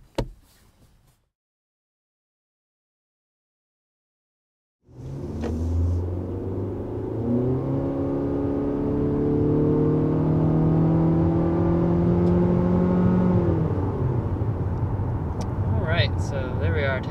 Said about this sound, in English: So there we are, taking off the 2021 Civic Sport